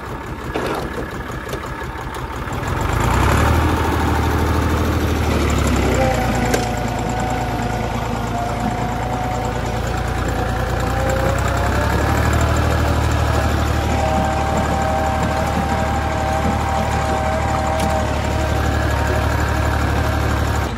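A tractor engine starts with a rumble and then idles steadily and loudly nearby, a low continuous throb with a faint whine riding on top.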